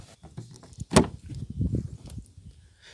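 Rear door of a 2017 Buick Envision opening with a sharp latch click followed by a low thud and rustle of the door swinging, close and fairly loud with no talk.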